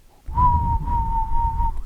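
A person imitates a whistled tune with their voice, holding one steady, clear tone for under two seconds over a low rumble.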